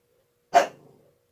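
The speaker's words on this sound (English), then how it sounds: "Sorry about the dog. She's hearing everybody moving around left and right" A female dog lets out a single short bark indoors, reacting to people moving around outside; the bark is fairly soft and stands alone, followed by silence.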